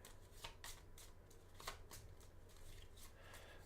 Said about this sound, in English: Let's get a close-up shuffle so everyone knows